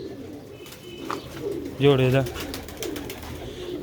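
Black-faced Sheikh pigeons in a home loft give a short, fairly close cooing burst, with a voice talking before and after.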